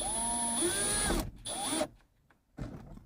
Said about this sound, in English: make sure you got the drill turned down, or you may just want to do it by hand